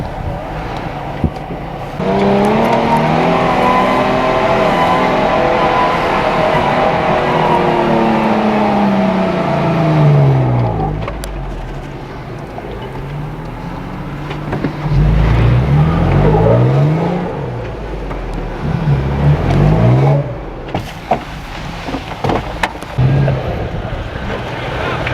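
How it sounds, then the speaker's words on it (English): A truck engine revving hard while off-roading up a sand hill, surging and dropping in repeated loud bursts with pauses between pushes, close by and outdoors. "I'm out wheeling in my truck"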